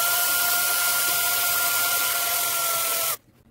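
A power drill whirs at a steady high pitch for about three seconds while drilling a Hot Wheels die-cast car, then cuts off abruptly, leaving near silence.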